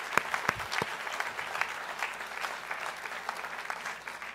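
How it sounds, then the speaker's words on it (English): Audience applauding at a high school graduation ceremony, a steady wash of many hands clapping at moderate distance, sustained and fairly even throughout without voices. "please, clap."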